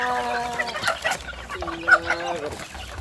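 Several chickens cluck and squawk nearby at a fishpond in scattered bursts, with a rooster-like call and faint background noise.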